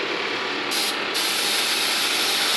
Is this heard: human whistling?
no